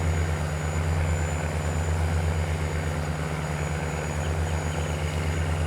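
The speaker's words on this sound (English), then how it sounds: "that is the sound of the air going through the tubes to push the seeds out the air drill." Air drill on a farm, blowing seeds through its tubes, produces a steady, loud whooshing rush over a low, pulsing engine drone that continues unbroken throughout.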